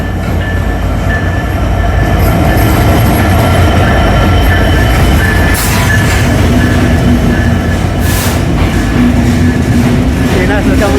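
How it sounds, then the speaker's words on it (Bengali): A train pulls into a station with a loud, continuous rumble of wheels on rails, occasional squeals and a clickety-clack rhythm, very close, while people talk in the background. "অবশেষে আমাদের ট্রেন চলে আসলো"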